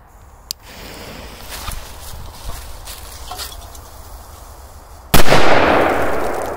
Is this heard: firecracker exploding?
yes